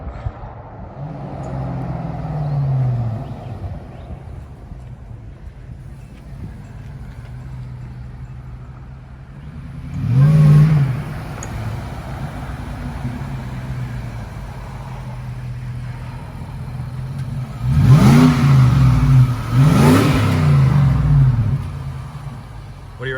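A heavy 4-plus-ton vehicle with a blown engine accelerates hard, its rising revs swelling in several loud surges over a continuous rumbling drone heard from inside the cabin.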